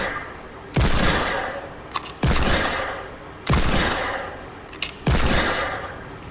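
Fortnite weapon fire during shooting practice: four loud, evenly spaced blasts, each with a short sharp tick in between and a long decaying tail.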